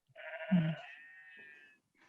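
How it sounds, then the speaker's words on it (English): Sheep bleat outdoors during an archaeology awards event, one long wavering cry that rises strongly and then trails off, with a faint second bleat at the very end. "the sheep are clearly agreeing with somebody anyway"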